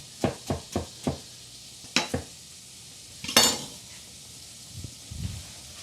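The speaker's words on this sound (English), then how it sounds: "Give it all a good stir." A spoon clinks and scrapes against a pot while stirring a vegetable stew of potatoes and veggies, a quick run of four sharp taps followed by a few more knocks and a soft scraping stir.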